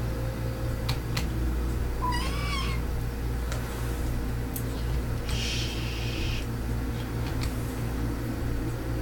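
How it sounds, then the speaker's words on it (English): A kitten about nine or ten weeks old gives a couple of short, high meows over a steady fan-like hum, fairly faint against the constant background noise, with no talking heard. "it's my kitten. She's about 9, maybe 10 weeks old at the most."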